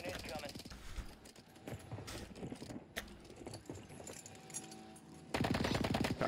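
Gunfire in the Warzone video game, shown as rapid bursts of shots mixed with clattering game sounds, heard under ongoing talk.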